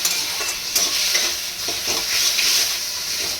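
Crushed ginger and garlic with cumin powder and a splash of water fry in a pan for a Bengali prawn dish, giving a steady loud sizzle with scraping stirs throughout, no voices.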